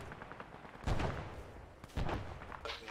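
A frag grenade goes off in the Arma military video game as two muffled, fairly distant booms about a second apart, set against faint battlefield background noise.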